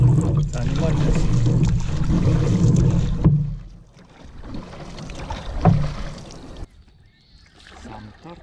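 A canoe paddles along the Grand River, with steady water sloshing and wind buffeting the microphone, loud and close at first, then quieter strokes and faint trickling toward the end.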